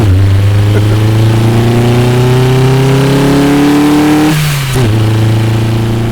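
A loud car engine revs up through rising gears, a brief shift dip, then climbs again as it pulls away, close and with no talking.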